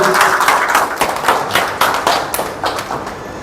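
Audience at a hospital inauguration claps loudly and steadily, a dense wash of hand claps with a few sharper thuds standing out, close and continuous throughout.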